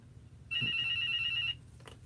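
An indoor telephone gives one steady electronic ring about a second long, then falls quiet over faint room background.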